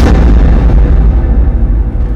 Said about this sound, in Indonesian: Bombardir. Meledak kapal kita.